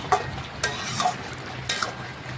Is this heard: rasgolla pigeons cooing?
no